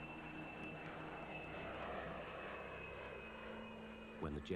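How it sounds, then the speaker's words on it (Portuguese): Fighter jets fly overhead with a steady, broad engine roar that holds at a constant level throughout, fairly distant, ending with a brief voice near the close. "os esperados aviões de caça chegaram"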